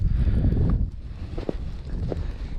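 Wind blows outdoors on a winter ice-fishing trip, a rough, low rumble of gusts buffeting the microphone with a few faint crunching steps.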